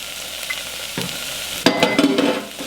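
Butter melts in a pan with onions, peppers and garlic while making cheddar ale, giving a quiet background sizzle broken by a few soft clinks and stirring scrapes.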